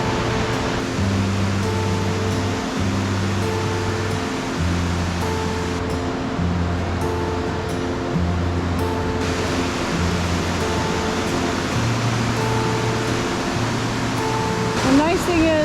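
Dancing Cascade, a waterfall on McDonald Creek in Glacier National Park, rushes with a steady broadband roar. A voice talks over it at intervals.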